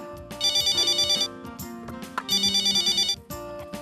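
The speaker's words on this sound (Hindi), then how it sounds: "फोन उठाइए।" A telephone ringtone trills in two loud repeated bursts of rapid electronic rings with a short gap between them, heard close and clear in a family home scene.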